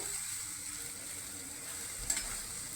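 Masala for a Bengali catla fish curry sautés in a pan with a quiet, even sizzle throughout and a single faint scrape near the end, no talking.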